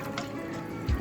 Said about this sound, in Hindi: अब हम इसमें थोड़ा थोड़ा पानी शामिल करते हुए हम आटा गूंथती हूँ मैं।